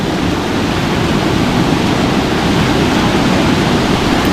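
River water rushes in a steady, loud, continuous roar close by, with no pauses and no voices.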